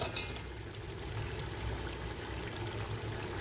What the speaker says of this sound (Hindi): थोड़ा थोड़ा पानी लगाकर अच्छे तरीके से मिक्स कर लेंगे।